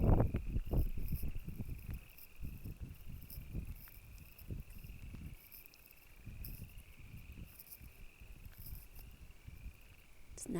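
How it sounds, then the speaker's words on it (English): Bullfrogs call in the water on a windy evening. A chorus of faint, low, irregular croaks sits under wind buffeting, with a steady high insect trill running throughout. "Must be a bunch of bullfrogs out here in the water."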